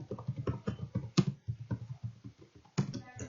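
Typing on a computer keyboard while writing a couple of lines in a word processor, a steady patter of close, distinct key clicks with an occasional heavier keystroke.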